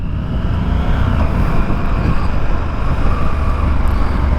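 A Triumph Scrambler 1200 motorcycle ridden on an open road, a steady, continuous engine drone mixed with broadband wind rush at a constant loudness, with no speech over it.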